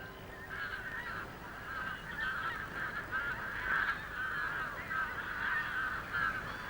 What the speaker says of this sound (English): Pinkfoot and grey-lag geese, northward bound for the brief Arctic summer.